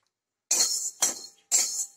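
Whole coriander seeds dry-roasting in an empty pan over a full flame, heard as three short, bright scraping rattles in quick succession, close and fairly loud with silence before the first.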